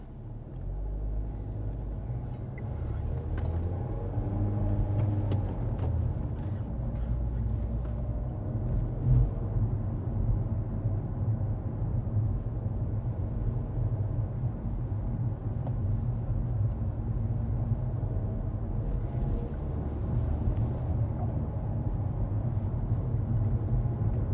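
Steady low rumble of a car cruising down a 20 mph road, a constant engine and road drone heard from inside the cabin throughout, with no one talking.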